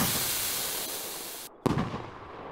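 A firework bomb in the game Fireworks Mania: steady crackling hiss of a burning fuse or fountain cuts off abruptly, then a sharp bang bursts out followed by a decaying crackle, with no talk.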